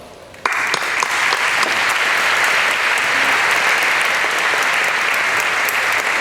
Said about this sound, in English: This staff deserves our applause as well